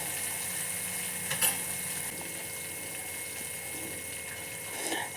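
A thick chocolate burfi mixture cooks with sugar syrup in a large pan on low heat while being stirred, producing a continuous close sizzle with soft scraping strokes and a few brief louder scrapes.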